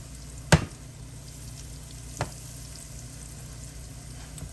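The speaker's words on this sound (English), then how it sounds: "You just put that oil back and forth over just to help them cook." Fish frying in hot oil for a Saturday fish fry gives a faint, steady sizzle, broken by a sharp knock near the start and a softer one about two seconds later.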